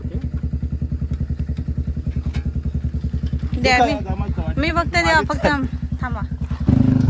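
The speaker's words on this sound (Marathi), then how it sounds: "मंदार एटीव्ही घेऊन चाललो आ पकडून बसा वहिनी" An ATV engine idling nearby with a steady, rapid low putter throughout, loud and close, while several people talk over it and the engine note briefly steps up near the end.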